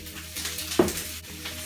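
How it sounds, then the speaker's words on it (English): Brussels sprouts and onion are tossed into a hot oiled pan and hiss in a steady, close sizzle, with a brief clatter partway through as the food lands and shifts. "So the pan's already hot. I'm going to toss in my Brussels sprouts and onion."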